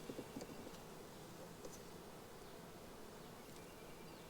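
Honey bees buzz steadily and fairly close throughout a hive inspection, a continuous droning hum with a few louder individual fly-bys near the start.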